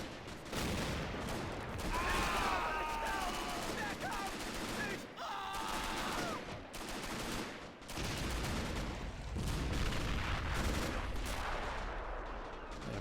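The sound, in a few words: flak 88 gun firing at infantry, from a video game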